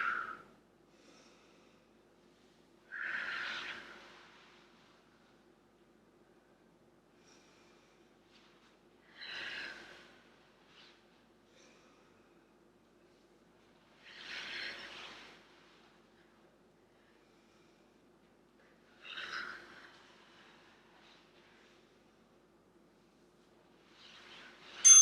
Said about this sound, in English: Lengthen those exhales, here we go.